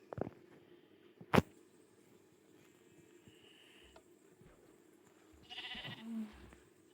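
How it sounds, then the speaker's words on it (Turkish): Sheep in the video game Minecraft give a few short bleats near the start and again toward the end, separated by quiet game sounds and scattered clicks. "Yüzlerce koyun."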